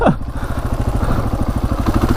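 A rare Honda 500cc motorcycle, not run in years, catches and runs with a fast, even, loud putter of exhaust pulses.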